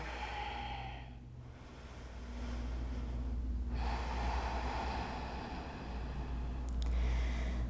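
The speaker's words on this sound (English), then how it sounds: "I'm just taking a few releasing breaths here." Soft, slow releasing breaths during a yoga cool-down, lying on a mat with knees fallen together; quiet, airy exhales and inhales in a calm room with low background hum.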